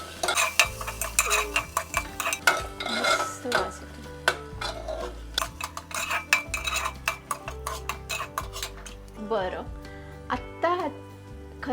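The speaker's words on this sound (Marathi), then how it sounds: "आता ह्याच्यामध्ये टाकते मी छान मिक्स करून घेते" Washed rice is stirred into a pan for a peas and corn rice dish. A spoon scrapes and knocks in quick, irregular strokes, with light sizzling beneath and a voice talking over it.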